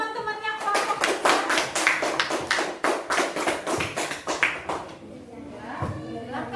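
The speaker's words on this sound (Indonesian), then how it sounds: "Beri tepuk tangan buat teman-temannya kelompok 3." A classroom of students claps for a classmates' group, distinct individual claps in a quick, somewhat uneven rhythm, close and loud, tapering off near the end as a voice speaks.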